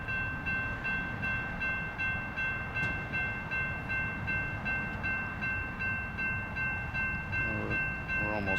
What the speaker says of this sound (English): I'm trying to figure out where that train was blowing his horn